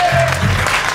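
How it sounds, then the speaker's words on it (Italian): A concert audience claps for a blues-rock band's live show, a short dense burst of applause close and loud. "facciamo un applauso."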